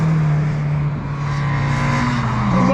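Race cars roar on the Anglesey circuit during time attack qualifying, including a Peugeot 205, a loud sustained engine drone with rising pitch as cars pass close by.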